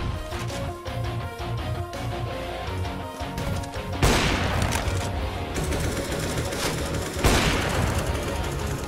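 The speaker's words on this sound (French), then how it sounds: "Flashbang." Video game combat with rapid bursts of gunfire and a sharp crashing blast from a flashbang grenade, dense and loud throughout, with a second heavy impact a few seconds later.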